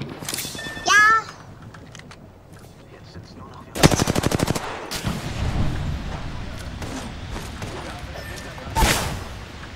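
Gunfire from a Kraber sniper rifle in the shooter game Apex Legends. A short, sharp burst comes early, then a loud rapid rattling volley near the middle and one more blast near the end, as German-speaking players talk.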